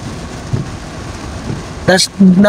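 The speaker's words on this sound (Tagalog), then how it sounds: "Hintayin lang namin tumila yung ulan" Steady heavy rain hisses along a baywalk in Aparri, with a few faint low thunder rumbles before someone starts speaking.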